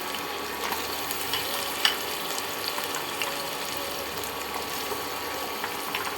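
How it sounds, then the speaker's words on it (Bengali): Raw banana slices fry slowly in oil over low heat, giving a soft, steady sizzle with a faint crackle. One brief click cuts through briefly. "ধীরে ধীরে ভাজা হলে ভাজাটা খুব ভালো হয়, ভেতরটাও ভাজা হয়ে যায়।"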